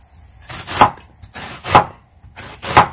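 Knife chopping half an onion into tiny pieces, three crisp, evenly spaced thuds against a board, close and clear with no voices.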